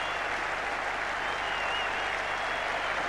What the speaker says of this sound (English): And they're going to applaud him all the way in, a reception he so thoroughly deserves.